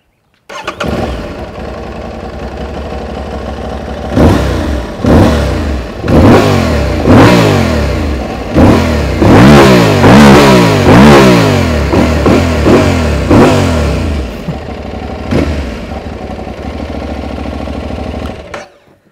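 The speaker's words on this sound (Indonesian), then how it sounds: "Nah sekarang mari kita dengerin suara mesinnya dan juga ngebahas kayak apa sih mesinnya. Kita nyalain dulu." An Aprilia Tuareg 660 motorcycle with a 659 cc engine cranks and fires up, then settles into idle broken by a series of sharp throttle blips and revs, loud and close, with no talk.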